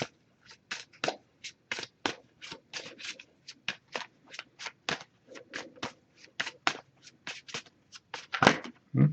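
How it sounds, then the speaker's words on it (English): An oracle card deck is shuffled by hand at close range, a quick run of many crisp riffling flicks and slides with short pauses between them, soft and intimate, without speech. "I'm just going to pull a single card from this one."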